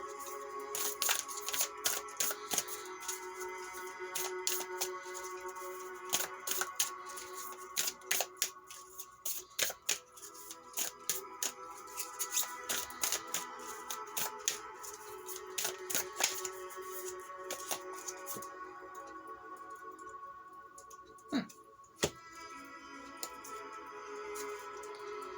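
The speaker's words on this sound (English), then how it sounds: "So let's shuffle the Moonology cards." Moonology oracle cards being shuffled by hand, a steady run of quick, crisp riffling clicks and flutters that carries on for most of the stretch, close and moderately quiet, with no talk over it.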